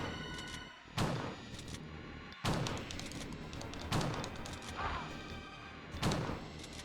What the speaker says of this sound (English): clearly it's taking damage by me shooting it